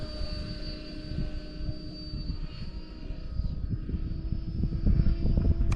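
A helicopter, likely a radio-controlled model, descends in a 45-degree autorotation with its motor at idle, a steady low whirring drone and rotor buzz growing slightly louder toward the end, with no talking.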